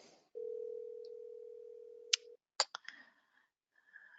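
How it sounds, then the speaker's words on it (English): An outbound call is dialed from a softphone on a computer: a long steady dial tone, then several sharp clicks and short tones, followed by a faint ringing tone, all clean and isolated. "You could go ahead and manually type a phone number in and then dial that."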